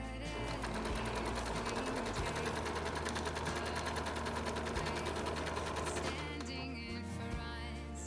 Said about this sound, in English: Now we are ready to sew across the bottom edge.